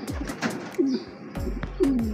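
Racing pigeons coo in soft, low throaty calls close by, several rising-and-falling coos overlapping with light fluttering and ambient outdoor noise.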